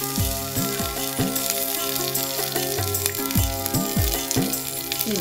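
Chopped onion and sliced chillies frying in oil, a continuous close sizzle beneath a voice singing or talking rhythmically over it.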